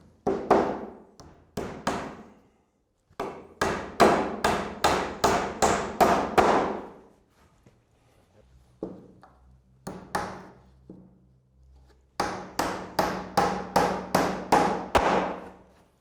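A hammer drives nails into a wooden roof batten, in quick bursts of sharp ringing strikes, several in a row, then a pause, then single blows and another fast run of hits, close by and alone.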